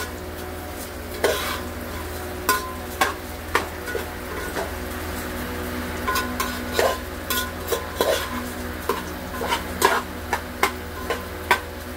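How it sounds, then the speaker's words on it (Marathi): Rice is stirred in hot oil for veg pulao. A spoon clinks sharply and rhythmically against the pot over a steady low frying hiss, and the scrapes and taps keep coming close up without any talk. "ते पहिल्यांदा 2 मिनिटं असे हलवून घ्यायचे तेलामध्ये।"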